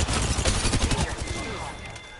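Rapid bursts of gunfire crackle in a fast-paced shooter video game, dense and clattering for about two seconds at moderate volume, with voices faintly mixed in.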